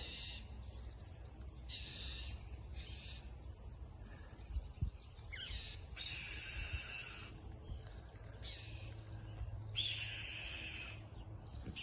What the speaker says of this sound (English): you can hear the red-tailed hawk up in the tree screaming